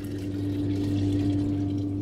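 Water rushes steadily through a pipe in a lab friction-loss rig after a ball valve is opened, a continuous, loud flowing hiss with a constant low hum underneath.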